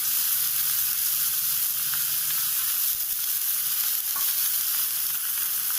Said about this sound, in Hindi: पनीर के टुकड़े रख लेंगे, सारे रख लेंगे एक साथ तवा पे। ऊपर से 1 चम्मच घी और डाल लेंगे।